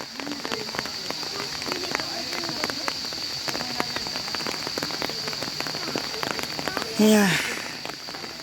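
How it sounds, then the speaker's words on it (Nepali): Rain falls steadily on foliage in a forest during an evening walk, a constant close patter that runs through the whole stretch, with a brief voice speaking near the end. "माथि आइसक्यौँ तर पानी अलिक बढ्यो परिरहेछ पानी"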